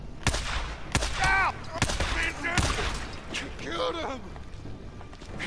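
PDW gunfire in Days Gone: four or five sharp, loud single shots spaced about a second apart, mixed with shouting voices from enemies in between.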